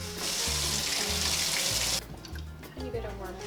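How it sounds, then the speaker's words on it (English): Warm water runs from a kitchen tap into a small bowl, a steady loud splashing rush that stops abruptly partway through, followed by quieter clinks and handling sounds. "Tiny bit of warm water."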